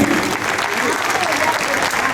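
Applause from the audience at the Mundoculturas 2019 gala in Blanes, offered in tribute to José Antonio Viñas: loud, continuous clapping from a large crowd, full and even throughout with a faint murmur of voices underneath.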